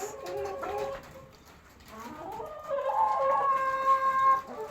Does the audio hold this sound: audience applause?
no